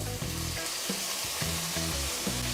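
Tomatoes drop into a frying pan of softened onions for a spicy okra and potato sabzi, setting off a loud, steady sizzle and frying hiss that runs the whole time, with a few stirring scrapes and no talk.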